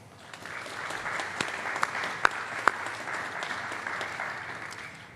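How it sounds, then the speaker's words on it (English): Applause at a college science awards ceremony rolls through a large audience, moderate and steady, with a few sharper claps standing out, building slightly toward the end. "literally applaud this well-deserved recognition"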